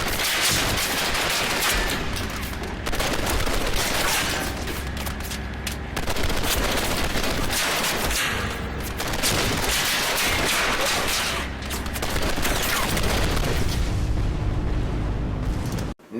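Rocket launcher fire and explosions at a zeppelin in the Turning Point video game, a dense barrage of loud blasts and rattling gunfire continuing for many seconds with brief dips.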